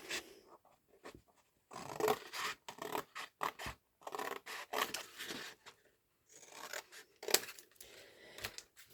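Scissors cut through paper mushroom images for a small one-sheet junk journal, making close, intermittent snips and scratchy rasps in uneven bursts with short pauses between them and no talking.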